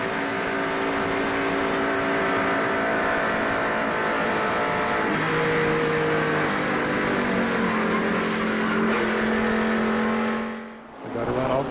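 Fourth-generation NASCAR race cars roar around a superspeedway in a continuous loud pack drone with shifting engine tones, a crash and spinning car on track, then the roar dips briefly near the end as cars pass.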